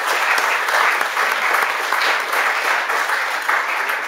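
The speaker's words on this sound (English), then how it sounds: "A warm applause, please" A university lecture audience in Zürich applauds its speakers with steady, dense clapping that fills the room evenly, loud and sustained throughout with no gaps.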